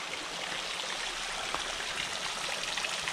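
Steady broadband water flow, cold radon spring water at Kapal-Arasan trickling down a rock wall, a continuous trickle and splash running without pause, fairly close and even in level.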